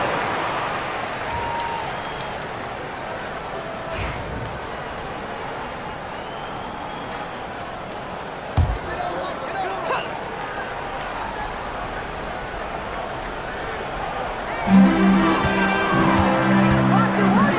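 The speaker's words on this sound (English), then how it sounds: "Please give a big round of applause for the Dance Squad." Crowd applause and cheering fill a WNBA 2K25 video game arena for the dance squad during an Indiana Fever versus Los Angeles Sparks game, a steady roar under an announcer's voice with a louder musical swell near the end.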